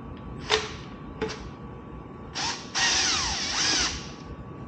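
A power screwdriver backs Phillips screws out of a pedal controller: two short whirring bursts, then longer buzzing runs, close and clear with a faint steady hum underneath and no talking.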